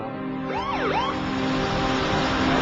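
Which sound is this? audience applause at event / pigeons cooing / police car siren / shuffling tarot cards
police car siren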